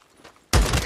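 Gunfire from the Days Gone video game lands as a sudden loud burst halfway through, after a quiet stretch, and then carries on as a dense, sustained blast of shots with booming low-end impact.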